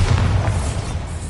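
A Bombarda spell explosion in Hogwarts Legacy, a deep, heavy boom with a rumbling low end that decays over about a second.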